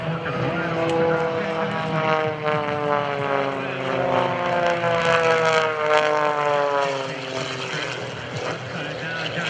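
Single-engine MXS aerobatic propeller plane performing at a Blue Angels homecoming airshow, its engine droning loudly and continuously with a shifting pitch as it rolls and pulls through manoeuvres, with a commentator talking over it.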